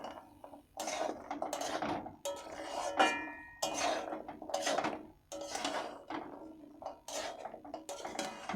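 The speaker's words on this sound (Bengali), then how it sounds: "এবারে আমি সমস্ত লটকাগুলি দিয়ে দিচ্ছি, দিয়ে আমি মাখিয়ে নেব" Jaggery-coated latka sweets being tossed and stirred in a pan, giving quiet, irregular scraping and clattering bursts with short pauses between them.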